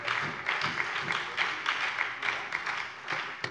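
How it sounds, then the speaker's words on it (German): Applause at a German parliament plenary session, a moderate spread of clapping from a limited part of the room that rises and falls in uneven bursts, with no speech over it. "Schade, dass das Klatschen jetzt so einseitig ist"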